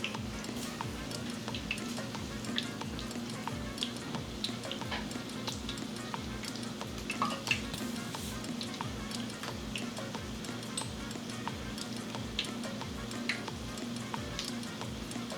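Cannoli shells fry two at a time in hot oil, giving a faint, continuous crackling sizzle with scattered tiny pops and ticks throughout.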